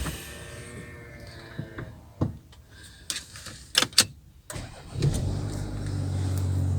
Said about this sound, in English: so ignition on, start her up